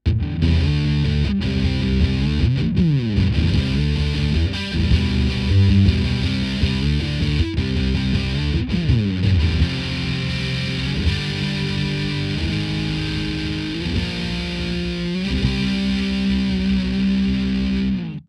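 A heavily distorted, fuzzy electric guitar through an Electro-Harmonix Sovtek Deluxe Big Muff Pi pedal plays sustained, saturated riffs continuously and loudly, with a thick buzzing tone and bright high sparkle.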